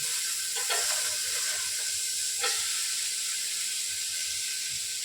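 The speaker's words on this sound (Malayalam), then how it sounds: "അതിനകത്തോട്ട് ഞാൻ 2 തക്കാളിക്ക ഇട്ടിട്ടുണ്ട്. അപ്പം ആ തക്കാളിക്ക ഒന്ന് മൂക്കട്ടെ" Chopped onions and tomatoes sauté in a pan, giving a steady soft sizzle and hiss throughout, with a couple of brief stirring scrapes near the start and middle, and no voices.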